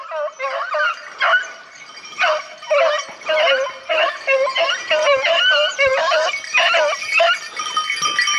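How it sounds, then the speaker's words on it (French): Hunting dogs bark and yelp excitedly during a wild boar hunt, a rapid, loud chorus of overlapping barks and yips that runs almost without pause. "C'est bien les toutous!"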